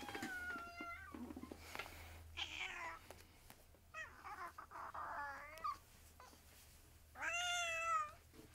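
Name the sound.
cat meowing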